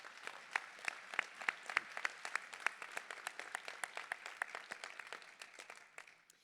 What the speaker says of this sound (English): give our board a round of applause for all the great work they've done